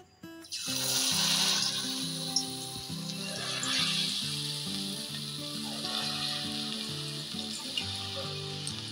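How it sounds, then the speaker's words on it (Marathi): Bhaji fritters fry in a pan of hot oil in a home kitchen with a continuous close sizzle and bubbling, while steady background music plays underneath. "भजे छान तळले गेलेले आहेत"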